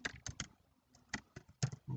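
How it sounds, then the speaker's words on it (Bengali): Keystrokes on a computer keyboard come in short irregular bursts, a few quick clicks at a time with brief pauses between, close and moderately loud. "লিখি মনির"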